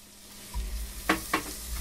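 Onions hit melted butter in a pan with a soft sizzle, then two quick bright scraping stir strokes sound close by, quiet and without speech.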